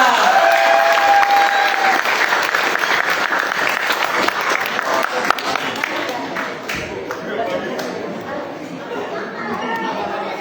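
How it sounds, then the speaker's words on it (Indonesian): Theatre audience giving the team loud, sustained applause with cheering, dense clapping that fades somewhat toward the end while crowd chatter carries on underneath. "Jadi tepuk tangan dulu untuk mereka semua."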